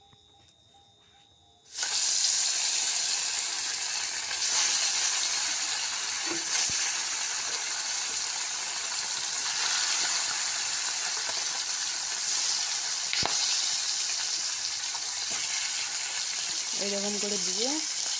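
Fish sizzles in hot oil in a wok: a loud, steady frying hiss starts abruptly after a brief quiet moment and carries on close and continuous, with a faint voice near the end.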